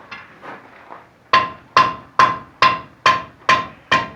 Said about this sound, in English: I'm hammering in this corner